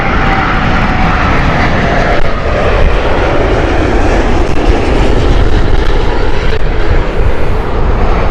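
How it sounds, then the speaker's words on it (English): Virgin Atlantic Boeing 787 airliner at Heathrow Airport, a loud, continuous broadband jet engine roar filling the whole stretch, steady and powerful with no voices. "Virgin 787 here."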